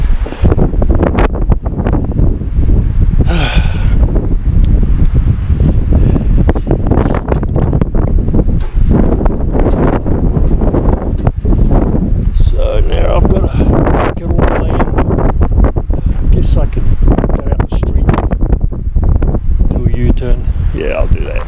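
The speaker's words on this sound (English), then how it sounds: "Oh god, this damn wind," Heavy, constant wind buffeting the microphone roars across the whole stretch beside a 1969 Mercury Marquis Brougham with a 429 four-barrel V8, with a voice talking through the rumble.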